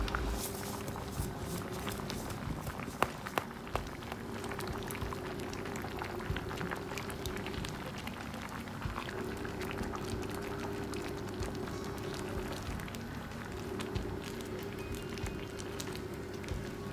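Mung beans for ginisang monggo bubble in a pot, a steady, close simmer with soft popping and a low hum, no voices.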